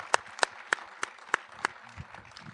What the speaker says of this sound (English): I need one more round of applause for that, though.